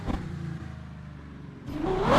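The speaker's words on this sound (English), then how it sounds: "Why would you want an electric car when you can have a car sound this good?" A car engine in the Tokyo Extreme Racer video game idles with a low rumble and then revs upward sharply near the end, loud and close with no talk.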